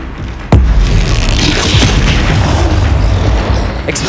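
A spell being cast in Hogwarts Legacy lands as a single loud magical boom, followed by a rumbling, crackling tail of combat noise.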